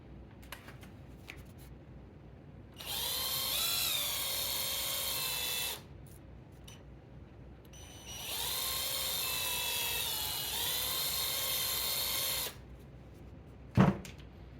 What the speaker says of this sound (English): I'm going to ream it out just a little bit more.